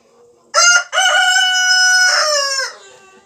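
A rooster crows loudly and close by: a short opening note, then a long drawn-out call that rises and tapers off.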